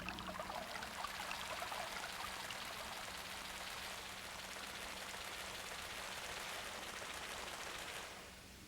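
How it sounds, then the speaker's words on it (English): A babbling brook flows steadily and evenly throughout, a continuous close watery rush with no voices, easing slightly at the very end. "listen to the babbling brook sounds as you go over the bridge into the meadow once again"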